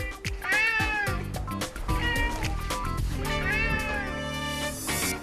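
A rescued former street cat meows repeatedly and insistently, with drawn-out, whining cries close by. Soft household knocks and shuffles sit underneath.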